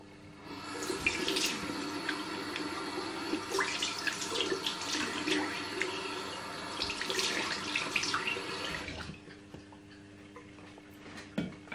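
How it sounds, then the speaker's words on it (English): Running tap water splashes steadily over hands being rinsed at a sink, a continuous close hiss with small irregular splashes, cutting off near the end. "Rinse my hands off again"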